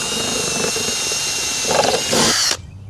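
A power drill whines steadily as it bores through hard rubber in a garage, rising in pitch near the end before cutting off abruptly.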